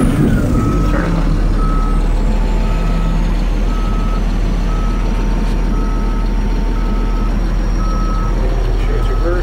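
A bulldozer backs up with its diesel engine droning loudly and close, while evenly spaced reversing beeps sound throughout over the heavy rumble.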